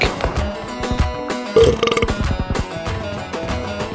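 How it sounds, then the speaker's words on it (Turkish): A loud, drawn-out burp erupts during a PUBG Mobile comedy edit, rising over game sounds and a brief musical backing, close and alone without talk. "Birazdan geğirecek."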